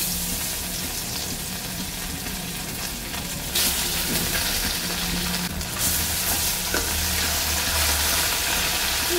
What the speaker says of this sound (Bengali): তো তেল গরম হয়ে গেছে, আর আমি মাছটা দিয়ে দিই।